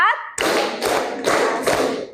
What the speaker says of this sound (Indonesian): Sekarang kita tepuk ya.